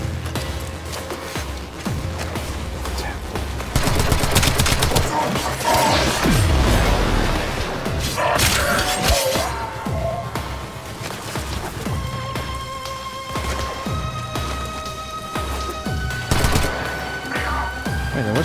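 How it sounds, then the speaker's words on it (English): Gunfire in the video game Warframe: dense, loud bursts of automatic shots and crashing impacts that swell and continue almost without a break, with a few heavier booms mixed in. "Wait, what's shooting at you?"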